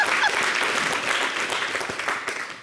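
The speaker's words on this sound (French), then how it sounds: "Applaudissez pour ma démarche. Applaudissez." Steady applause from a crowd, loud and continuous for a few seconds, with no speech over it.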